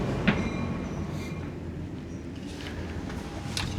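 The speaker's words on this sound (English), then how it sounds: "My train should be here any minute" Amtrak train pulling into Jack London Square station: a steady rumble of rolling rail cars with faint clanks and a few brief high metallic squeals, moderately distant and continuous, no talking.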